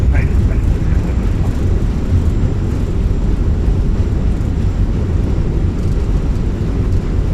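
Airbus A320 (Fenix A320) in an Aer Lingus flight-simulator landing, with thrust reversers deployed during rollout: a loud, steady, broadband roar with deep rumble that holds unbroken throughout.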